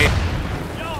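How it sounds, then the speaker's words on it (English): A grenade blows up in the co-op shooter Insurgency, a loud blast at the start that fades into a rumbling tail under battle noise, with a voice heard over it. "Oh, suicide grenade."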